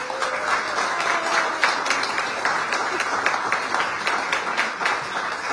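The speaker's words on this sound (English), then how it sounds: "Please give a big round of applause to Andrew Francois and Davin Rubicz." An indoor concert audience at a chamber music series applauds as musicians come onto the stage. The applause is dense and even, holds for several seconds, and comes with faint voices.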